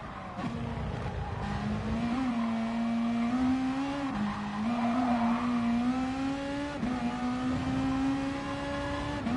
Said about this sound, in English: Who'd have thought a Beetle would be winning a drag race with a Viper?